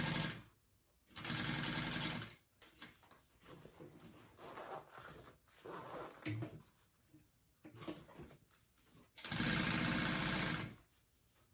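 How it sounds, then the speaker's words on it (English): A sewing machine stitches the zipper panel of a classic handbag in two loud, close bursts of rapid whirring, with quieter handling and fabric shuffling between runs. "And then I'm gonna sew that together."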